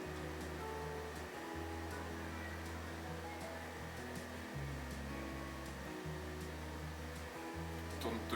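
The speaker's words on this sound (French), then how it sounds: "Le climatiseur il tourne." Air conditioner running with a steady, droning hum and low tonal buzz that shifts in pitch a few times as it works, continuous and fairly close, with no talk.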